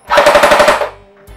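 A CYMA CM060 P90 airsoft gun fires a short full-auto burst, a rapid string of about ten loud, close, evenly spaced shots lasting under a second, followed by a brief mechanical tail.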